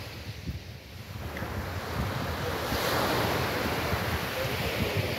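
Sea waves wash in steadily on Sharjah beach, a broad rushing surf that swells louder midway, with wind buffeting the microphone throughout.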